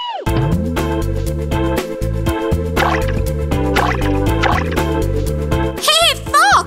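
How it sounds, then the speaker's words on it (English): A cartoon goat leaps into a well in an animated children's story. A watery plop and drip sound over plucky background music. "Not even thinking for a second, the goat jumped into the well."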